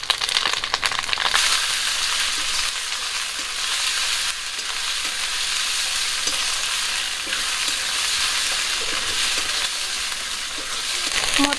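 Masala spice paste with turmeric and chilli powder frying in a pan for a chicken gravy, a steady close sizzle with continual stirring and scraping, no voices.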